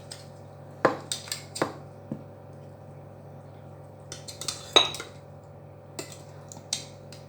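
Meaty osso bucco pieces set down into a small 1.5 litre crock pot, giving several scattered clunks and clinks of ceramic near at hand over a low steady hum.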